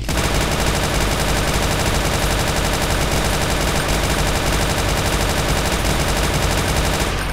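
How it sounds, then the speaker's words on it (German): Belt-fed, Rambo-style machine gun in Brutal Doom firing a long unbroken burst, loud, dense and steady for the whole stretch, with no talking over it. "Es ist auf jeden Fall eine, ja, Rambo-Style-Waffe. Heißt also mit unendlich Magazin"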